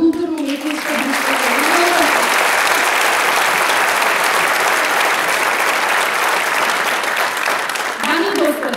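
Sustained, loud applause from a concert audience at a jubilee folk ensemble performance in Veles, steady for several seconds, with a speaker's voice briefly over it at the start and end.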